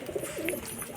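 A pet pigeon at a bird show in a Bhopal market gives a soft, brief coo, faint and close, over low background murmur.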